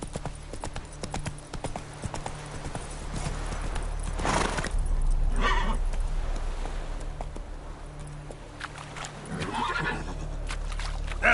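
Roach the horse gallops in The Witcher 3, with continuous rapid hoofbeats up close and two whinnies rising over the run, one near the middle and another toward the end.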